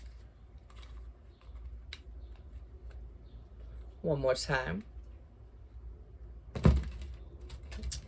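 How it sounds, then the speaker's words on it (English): A soft flurry of tarot card shuffling with light ticking riffles, a brief sharper burst near the end, and a person speaking briefly over it. "I'm going to do a little bit of shuffling to get started"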